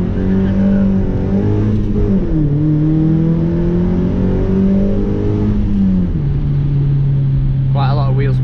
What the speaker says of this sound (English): Quite a lot of wheel spin there on the loose gravel